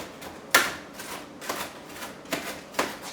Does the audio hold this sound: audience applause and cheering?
no